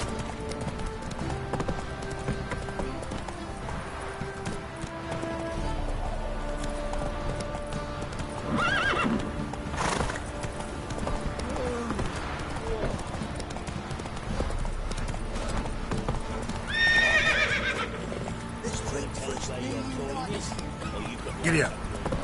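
A horse gallops and neighs in The Witcher 3, its clip-clop hooves drumming steadily throughout with a few loud whinnies. Game dialogue and background music play over the hoofbeats.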